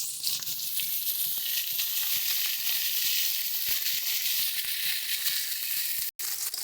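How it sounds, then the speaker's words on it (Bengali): Brinjal (eggplant) slices frying in hot oil in a pan after fish, a steady loud sizzle with crackling throughout, close up, with no talking and a brief drop near the end. "বেগুনটা দিয়ে বেগুনটাও ভেজে নেব।"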